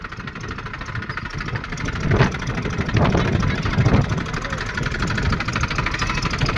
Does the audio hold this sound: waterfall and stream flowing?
no